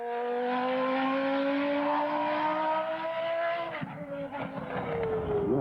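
A Williams Formula One car with a semi-automatic transmission laps a wet track. Its high engine note climbs steadily, drops sharply at a gearshift, then rises again as the car passes close by.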